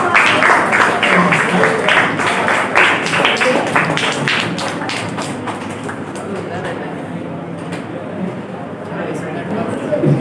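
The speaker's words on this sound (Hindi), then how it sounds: "जोरदार तालियां इनके लिए।" Audience applause at a career guidance program of an Urdu teachers' association, a dense spatter of clapping near the start that gradually thins and fades into a murmuring room.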